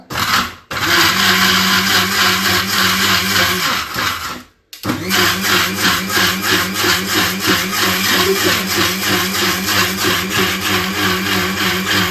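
A mixer grinder runs loudly with a steady whirring, grinding drone, cutting out briefly twice before carrying on nonstop.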